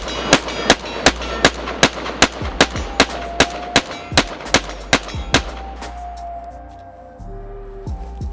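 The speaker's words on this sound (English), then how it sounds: "How about a good old mag dump?" Rapid pistol fire from an IWI Jericho 941 F9, a mag dump of about a dozen sharp, evenly spaced shots over five seconds. The shots are loud and close, followed by quieter outdoor ambience and faint metallic handling.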